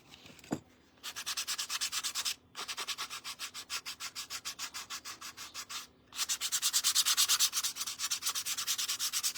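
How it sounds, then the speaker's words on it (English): Sandpaper rubbing across the back of a freshly painted bunny piece in quick, even back-and-forth strokes, close and clear, in three bursts separated by brief pauses. "Sanded it a little bit, but I think it looks good."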